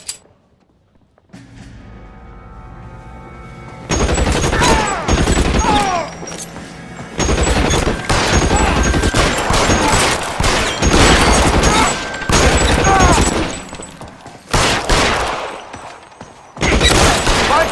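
Gunfire from a shootout in the video game L.A. Noire: dense, loud bursts of shots and booms in repeated volleys with brief lulls, after a quiet opening.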